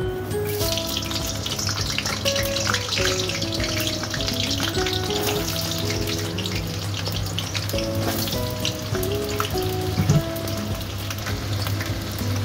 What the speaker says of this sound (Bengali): কড়াইতে তেল দিয়েছি, বড় বড় আলু কেটে নিয়েছি